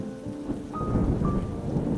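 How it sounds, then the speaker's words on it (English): Steady rain pours down through a stormy night while low thunder rumbles continuously underneath, loud and close, with no voices. "It was on a dark and rainy night"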